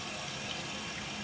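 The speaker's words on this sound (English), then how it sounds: "What you see right here is actually water coming in and refilling" Water rushes into a toilet tank refilling after a flush, a steady, close gushing and hissing flow that holds even and unbroken, with no speech.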